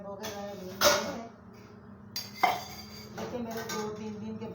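Dishes and utensils clattering during morning dishwashing at home, with a few distinct clanks of pots and cutlery close by, separated by running-water hiss and softer handling noises.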